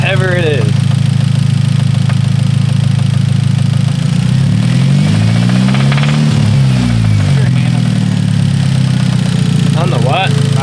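A Hyundai Genesis Coupe engine runs steadily close up, loud and constant, with a droning hum that swells and wavers mid-way and a harsh top-end clatter over it. Brief voices come in at the start and the end.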